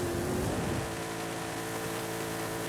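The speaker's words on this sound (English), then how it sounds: "Sounds like a rally car." A rally car engine in the Forza Horizon racing game drones steadily with a slight rev at the start, moderately loud under a hiss of game noise.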